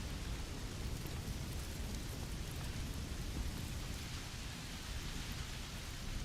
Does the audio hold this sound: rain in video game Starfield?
yes